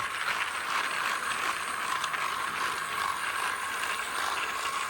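Motor of a new 2026 motorized Thomas and Friends Percy toy train running slowly on Tomy track, heard up close as a continuous whirring, ratcheting gear drone with an even, rough buzz throughout.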